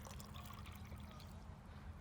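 Herbal plant tea poured outdoors into earth, a soft continuous trickle of liquid running steadily for a couple of seconds at moderate distance, with no voices.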